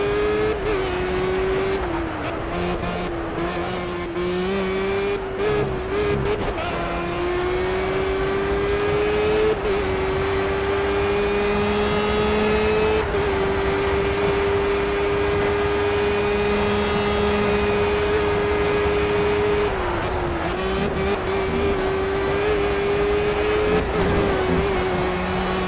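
Race car engines in the Project Cars racing game on the Nuremberg track, a loud continuous high-pitched engine whine that rises and falls as the cars accelerate, shift and brake through corners, close and steady.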